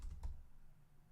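A few quick, quiet keystrokes on a computer keyboard, a short cluster of soft clicks followed by near silence.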